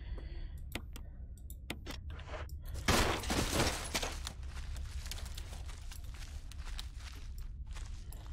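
Gunfire in the Resident Evil HD Remaster video game during a giant spider boss fight: a dense burst of shots around the three-second mark amid steady clicking and game noise, with no talk.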